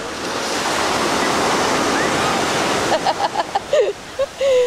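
Ocean surf rushes loudly and continuously at Sunset Beach on Hawaii's North Shore, a broad close wash of breaking waves, with voices briefly talking over it near the end.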